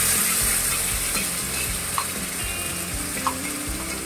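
A ground tomato and onion paste sizzles steadily in hot oil in a pan for fish curry, a continuous close frying hiss with a few soft clinks of stirring.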